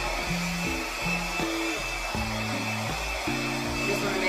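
Steady broadband air rush from a blower or hair dryer used to spread acrylic paint on a balloon dip painting, continuous and fairly loud throughout, with faint tonal hum underneath and no voice.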